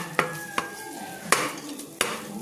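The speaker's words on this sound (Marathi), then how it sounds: "खवा टाकून पुन्हा हलवून घेते." Khoa being stirred into a mixture of ghee residue in a pan, four distinct spoon scrapes and taps against metal spaced over a faint sizzle, close up with no talking.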